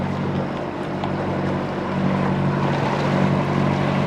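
A sailboat motoring upwind, with a steady low engine drone and hum under broadband wind and water rush, constant and fairly loud throughout.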